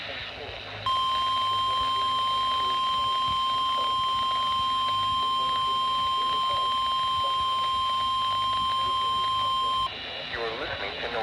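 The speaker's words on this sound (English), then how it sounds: "The preceding tone signals were a test of the alarm device of this weather radio station." NOAA Weather Radio alarm test tone from the Great Knob station, a loud steady unbroken tone lasting about nine seconds over faint radio static, cutting off abruptly.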